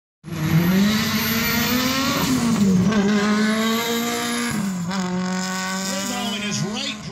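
A right-hand-drive Mitsubishi race car launches hard and accelerates up the Mt. Washington hill climb. Its engine screams loud and close through rising gear pulls, with brief shifts and a commentator talking over it.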